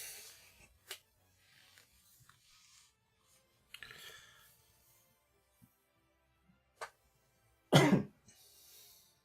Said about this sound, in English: you've got to stop coughing in the mic